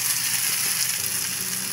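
Sliced pork and mixed mushrooms fry in oil in a pan, giving a steady, close, even sizzle with no talk over it.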